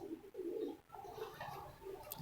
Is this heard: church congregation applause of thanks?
no